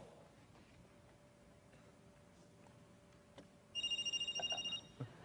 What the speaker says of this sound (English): and my phone should be calling Phil